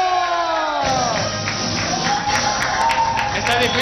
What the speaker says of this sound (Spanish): ¡Aplausos para el DJ